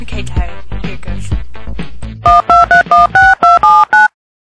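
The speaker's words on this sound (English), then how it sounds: "I am gonna call him on the phone!" A telephone number being dialed: a rapid run of seven or eight loud, clipped touch-tone beeps at varying pitches, following a stretch of busy sound, then silence.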